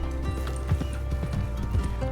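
Horse hooves clip-clop at a steady trot while riding in a video game, close and fairly loud over a constant low hum, with a brief whinny-like tone in the mix.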